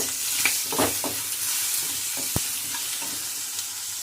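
Curry leaves frying in hot oil for coriander rasam, a steady close sizzle with a few sharp crackles and pops rising from the pan, no voices.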